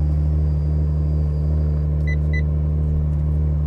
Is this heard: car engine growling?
yes